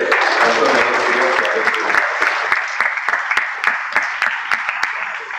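An audience at a Voice of Media convention in Saoner claps together in a dense, sustained burst of applause that stays loud for several seconds before easing slightly.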